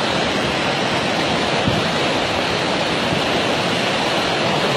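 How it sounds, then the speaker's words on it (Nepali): A swollen, muddy river in flood rushes past along a washed-out road, a dense, continuous roar of churning water close by with no let-up. "खोला ठुलै आएको छ"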